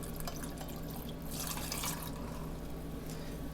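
Moscato wine poured for a peach punch, a faint, quiet trickle of liquid that swells briefly in the middle before settling back to a soft drip.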